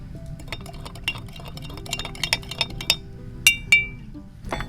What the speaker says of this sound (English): Take your spoon and stir it up a little bit to mix up that brown sugar with the liquor.